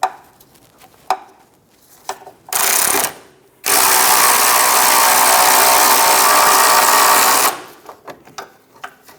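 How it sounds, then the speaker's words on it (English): Loud ratcheting and scraping as a box-end wrench levers a front lower control arm shock bushing into place on a 2003-2007 Honda Accord, with two sustained bursts of metal effort amid quieter clicks and handling noise. "we're going to use a wrench. We're going to put the box end over it, and we're going to pull it up"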